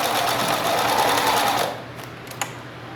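A sewing machine runs a steady, fast stitching burst in reverse while finishing a seam on a small fabric pouch, then stops, leaving a few light clicks.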